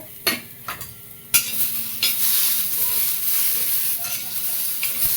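Tomatoes and green chillies stirred and roasted in a pan: several scraping spoon strokes against the pan, then a steady close sizzle with occasional stirring scrapes.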